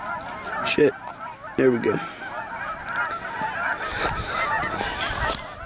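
Geese honk loudly in a couple of close bursts, with more honking and a brief spoken remark amid outdoor background noise.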